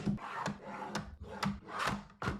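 A pencil being sharpened up close, with a series of soft rhythmic wooden scraping strokes, quiet and intimate in an ASMR style.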